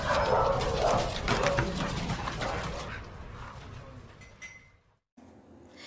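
Dog yipping and barking in short bursts within a children's alphabet song, loud at first then fading to faint yelps before a brief silence.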